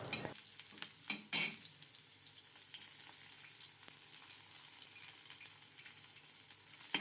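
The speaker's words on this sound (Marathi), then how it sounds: "मिरच्या चांगल्या परतून घेतल्यानंतर ह्याच्यामध्ये मी लसूण टाकलेला आहे आणि लसूण आपल्याला परतून घ्यायचं आहे" Green chillies and garlic sauté in a pan for a simple okra bhaji, giving a steady close sizzle with scraping stirs and a sharper burst early on.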